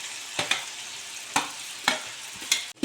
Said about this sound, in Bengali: ক্যাপসিকাম আর টমেটো একটু ভেজে নেওয়ার পরে